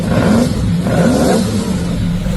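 A Ferrari 250 GTO's 3-liter V12 revs hard and continuously, its pitch rising and falling slightly as it accelerates, close and sustained for a couple of seconds.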